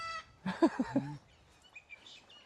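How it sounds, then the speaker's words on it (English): A few harsh, squawking cockatoo calls close by on a hike, a quick burst of raspy cries followed by fainter chatter. "Noisy cockatoo."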